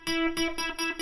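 Synthesized tone made by FM synthesis, a sine wave modulated by another sine wave, forming the tonal part of a piano-hit sound; a bright sustained harmonic tone pulses in about four repeated hits within a second, with no other sounds.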